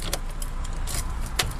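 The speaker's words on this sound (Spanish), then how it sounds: "Sacaremos la llave de contacto" An ignition key pulled from the lock of a 2004 Opel Zafira with a 1.6 petrol engine gives a short close metallic jangle and a few clicks over a steady low hum.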